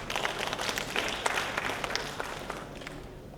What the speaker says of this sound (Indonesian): Sekali lagi tepukan untuk mereka.